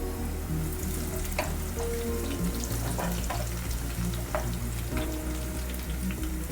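Onion and mint fry in a pan for a hotel-style masala chicken curry, giving a continuous close sizzle with occasional sharp stirring clicks and no talking.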